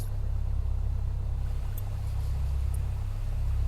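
A simple aircraft engine in Microsoft Flight Simulator drones steadily and low, a constant close engine hum with little change throughout.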